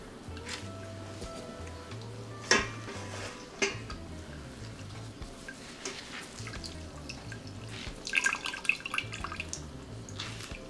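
Sorrel juice drips from pulp resting on a strainer, sparse close drips and small taps under a low background hum, with a few sharper clinks of a bowl or utensil and a busier patch of drips near the end.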